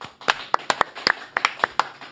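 Sparse clapping from a small group welcoming a guest, about a dozen separate claps in an uneven rhythm over two seconds, close and moderately loud.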